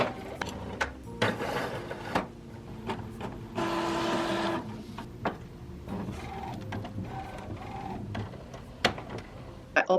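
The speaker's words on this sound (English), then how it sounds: "I'm using the Epson ET7750 printer for this. First I'm gonna do just a test print." An Epson ET7750 inkjet printer running a test print: close mechanical clicks and ticks, short motor whirs and a longer buzzing feed pass, in an irregular stop-start rhythm with no talking.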